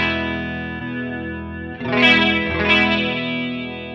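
A Strymon Deco tape saturation and doubletracker pedal set to an even blend of its two tape decks colours a sustained, harmonically rich guitar chord with a shimmering chorus-like wobble and a fresh strum partway through.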